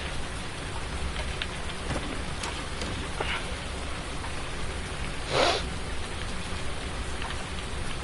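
Steady rain pours in Farming Simulator 19, a dense continuous hiss of drops on surfaces with a low rumble underneath and one brief louder gust-like burst, no talking.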